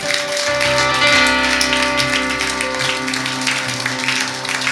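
A church congregation claps and cheers in praise, dense, steady applause layered over sustained organ-like musical tones, loud and continuous throughout.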